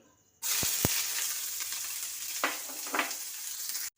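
Onions go into hot oil in a pan for a vegetable mushroom biryani, bursting into a sudden loud, steady sizzle with stirring scrapes. The sizzle holds up close until it cuts off, with no talking.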